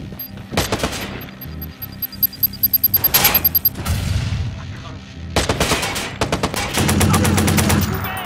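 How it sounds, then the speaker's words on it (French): Rapid bursts of gunfire crackle through a Watch Dogs firefight, with a short clustered volley early on and then dense sustained shooting and a thudding blast as a thrown grenade goes off, all loud and close. "Attention, je balance une grenade!"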